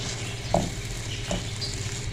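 Achari mirchi salan stirred in a pan as it fries, with a low steady sizzle and two soft scraping stir strokes, close and without talk.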